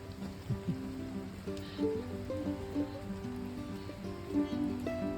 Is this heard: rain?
yes